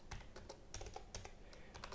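Typing on a computer keyboard while entering Linux terminal commands, a steady run of close, crisp key clicks in quick irregular rhythm, with no talking.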